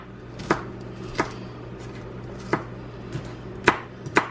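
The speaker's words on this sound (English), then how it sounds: "I'm just mincing about 4 cloves of garlic." A knife mincing about four garlic cloves on a cutting board, making a few sharp, separate chops at an uneven pace, close and clear over a quiet hum.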